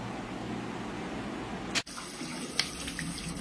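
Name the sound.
water running while washing face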